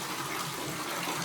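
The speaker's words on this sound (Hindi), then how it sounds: "पानी किसके मुख से आ रहा है? साक्षात नंदी जी से।" Water gushes steadily from the mouth spout of a Nandi statue at a high mountain temple, a close, continuous splashing pour with no other sounds.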